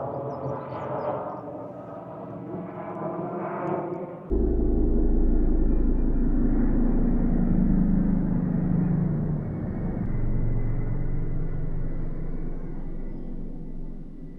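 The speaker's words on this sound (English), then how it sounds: "That's a Coast Guard rescue helicopter." A Coast Guard rescue helicopter passes overhead, a loud steady rotor and engine rumble that swells abruptly and stays strong, then eases slightly as it moves on.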